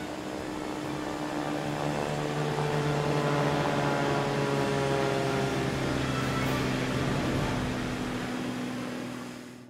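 A propeller aircraft droning steadily with a low, even hum that swells slightly in the middle and fades toward the end, with no landing impact evident.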